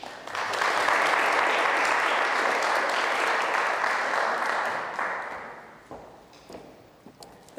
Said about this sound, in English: The people clapping are my students